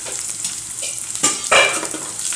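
Okra fries in a pan while a ladle stirs it, a steady close sizzle broken by a few sharper scraping strokes of the ladle against the pan, with no voices.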